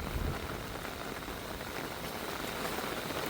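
A heavy downpour falls steadily on a rural homestead near a fish pond, a thick, even roar of rain close by that never lets up, with no voices.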